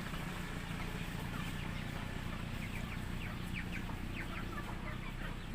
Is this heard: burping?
no